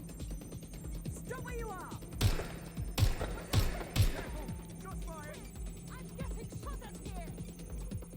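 Four sharp, loud gunshots go off in quick succession in a video game, with scattered game effects and a voice talking underneath.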